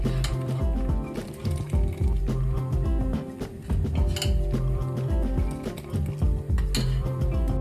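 Metal spoon scraping and clinking against a pot of milk heating for Turkish oven-baked rice pudding, steady rhythmic stirring with repeated sharp clinks, close and alone.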